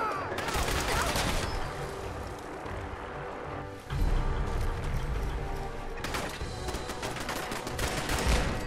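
Dense turret gunfire in the Fallout 4 video game. It fills the clip as a continuous loud barrage of overlapping shots, with a brief dip near the middle and then a heavy second volley. Faint voices sit underneath.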